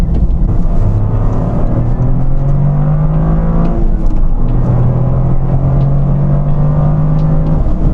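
Toyota GR Corolla in track mode accelerating hard, its engine note climbing steadily in pitch through two long pulls with a brief dip between them, loud and continuous with no talking.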